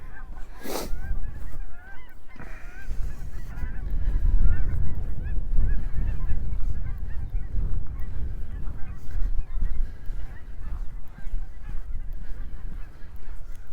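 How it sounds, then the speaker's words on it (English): Geese honk around snowy Wascana Lake in Regina on a cold April day, with one loud, close call early on and then a steady chorus of honking in the background. "there's another random goose sitting in the snow"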